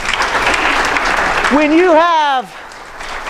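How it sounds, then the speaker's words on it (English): An audience claps steadily during a political talk in Asheville, a broad, dense patter that carries on as a voice starts speaking over it and then fades out. "You can applaud that if you like."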